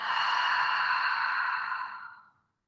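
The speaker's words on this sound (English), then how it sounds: "Breathing out." A single long, breathy exhale flows out steadily and then tapers off into silence, heard close and alone during a guided somatic breathing exercise.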